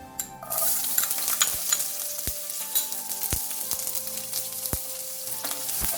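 Chopped onions with dried red chillies fry in a pan over a medium flame for bhindi do pyaza, giving a steady sizzle with a few sharp clicks of stirring. No one speaks.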